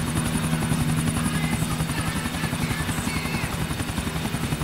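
Helicopter flying in the video game GTA 4, a steady loud rotor drone with a rhythmic chopping pulse throughout, alone without talk.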